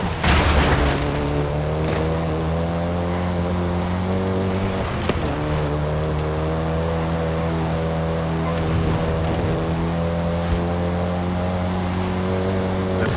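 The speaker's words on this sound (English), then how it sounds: "had quite a few variations, including the Golf GTI you're driving right now" A Volkswagen Golf GTI engine drones steadily while driving in Forza Horizon 5, a continuous harmonic hum with faint shifting revs, close and alone.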